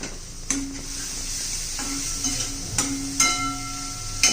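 Spinach curry with turmeric, coriander and spices being stirred and sautéed in a pan, a steady sizzle broken by several sharp scrapes and knocks of the spoon against the vessel, close and moderately loud, with no talking.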